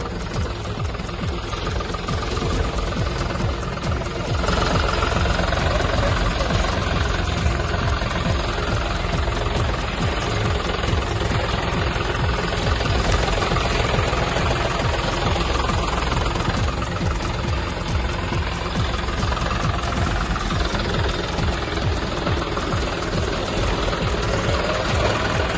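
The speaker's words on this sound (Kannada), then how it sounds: "ಹೊಸ ಟ್ರ್ಯಾಕ್ಟರ್ ಖರೀದಿ ಮಾಡಿ ಪೂಜೆ ಸಲ್ಲಿಸಿ ಟ್ರ್ಯಾಕ್ಟರ್ ಚಲಾಯಿಸಿದ ಎಚ್ಡಿಕೆ" A new tractor's engine runs on a farm in Bidadi, Karnataka, with a steady mid-pitched mechanical chugging and rattling vibration that holds evenly throughout, fairly close and with no talk.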